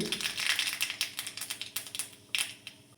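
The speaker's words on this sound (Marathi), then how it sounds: "मोहरी चांगली तडतडल्यानंतर जिरे घातले" Rapid, irregular crackling and popping close by of mustard seeds spitting in hot oil, with sharp clicks tapering off toward the end.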